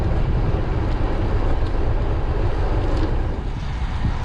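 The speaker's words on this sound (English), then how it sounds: "As you can hear, there's some wind today." Wind rushing over the microphone while cycling south into a headwind on the Legacy Trail near Casey Key, a steady loud broadband roar and buffeting throughout with no voices.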